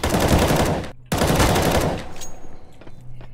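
Automatic weapon gunfire in a video game, two loud rapid bursts of close shots separated by a brief gap, followed by a few scattered fainter shots.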